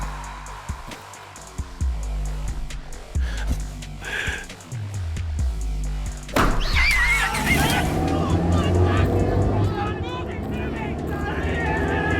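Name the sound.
car in a video game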